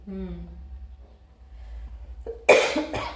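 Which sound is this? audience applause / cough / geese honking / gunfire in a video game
cough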